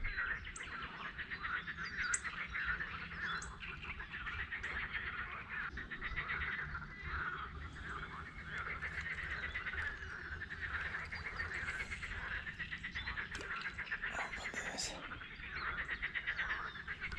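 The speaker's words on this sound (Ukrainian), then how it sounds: "жаби сьогодні так співають, просто заслухатись" A chorus of frogs croaks and trills continuously at a forest lake, layered and fairly distant, with occasional birds chirping in the background.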